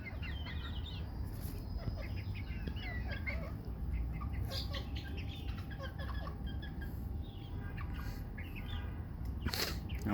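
Several chickens and a rooster feed together on cabbage leaves mixed with salt and turmeric, giving soft, scattered clucks and low chirps over a faint background hum at fairly low volume.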